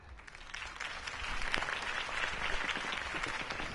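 Enthusiastic crowd applause in Batman: The Telltale Series, many hands clapping steadily and fairly faintly, as if from a large audience at a distance.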